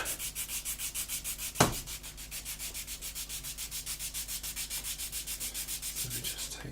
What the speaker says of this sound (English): try and do a 45-degree sand on each side